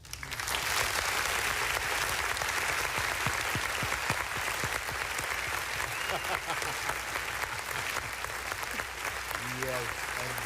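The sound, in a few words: applause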